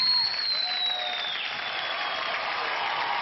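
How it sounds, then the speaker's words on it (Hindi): Studio audience applause on the Indian TV talent show India's Got Talent rolls on as a steady, even wash of clapping, with a bright synthetic swoosh and tone gliding over it. "जोरदार तालियां"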